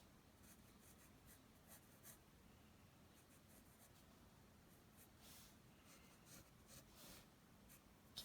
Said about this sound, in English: Getting comfortable so you can draw a straight line.